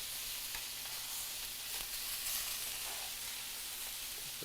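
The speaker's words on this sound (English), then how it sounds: "That on medium-high heat. The shrimp are already cooking through." Shrimp sizzling in a pan over medium-high heat, a steady close crackling hiss running throughout with faint clicks of stirring.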